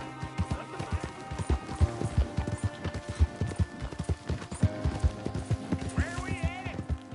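Rhythmic video game horse hooves clip-clop steadily at a walking pace, close and clear, with people speaking over them and a brief whinny-like sound.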